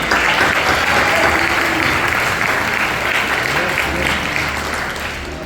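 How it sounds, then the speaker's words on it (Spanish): Sustained applause from a church congregation, loud and steady throughout and tapering slightly toward the end, with no speech over it. "un gran aplauso para él."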